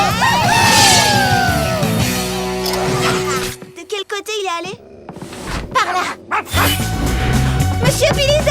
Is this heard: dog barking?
yes